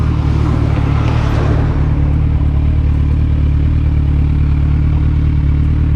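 A 2019 Kawasaki Ninja 1000 superbike exhaust while riding: a loud, steady engine drone with a deep, even rumble and wind rush, recorded close on the bike.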